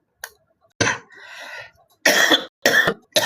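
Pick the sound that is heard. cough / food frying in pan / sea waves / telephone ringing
cough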